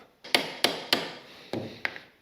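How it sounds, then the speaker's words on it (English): A hammer striking a foot peg spring on a KTM 350 EXC-F dirt bike, five sharp metallic blows at an uneven pace, close and fairly loud, each ringing briefly before the next. "And then it's hammer time."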